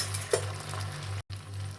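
Sago snacks dropped two or three at a time into hot oil for deep frying, giving a steady low sizzle with a light clink of a utensil against the pan, heard alone and close.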